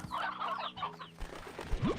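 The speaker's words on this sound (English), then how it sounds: "We've got a lot of chickens there." Chickens cluck and chatter on a farm in the video game Slime Rancher 2, several birds close by with overlapping squawks and a rising call at the end.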